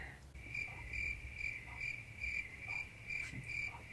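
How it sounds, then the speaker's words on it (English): A cricket chirps steadily in short, evenly spaced pulses, fairly close and clear over a faint low background hum, with no voices. "Insert cricket noises here"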